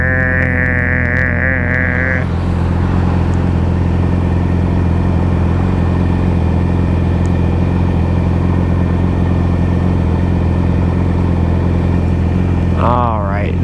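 A Yamaha R6 motorcycle engine hums with a steady, loud mid-pitched drone throughout, with rising revs at the very start and again near the end.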